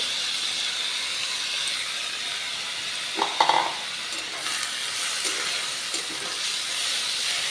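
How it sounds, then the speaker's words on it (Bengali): Moong and masoor dal lightly frying in a pan produce a constant soft hiss and sizzle, with a brief clatter of stirring in the middle and a few faint knocks later. "এই ডালগুলো আমি হালকা ভেজে নেব"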